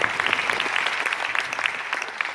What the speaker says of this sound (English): Please give them a round of applause for this punctuality.